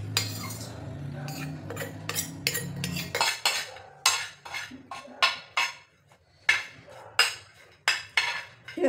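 Green chillies for thecha are crushed with a metal tumbler, a steady run of loud, close, rhythmic metallic pounding thuds and clanks, preceded by a low hum and clattering utensils.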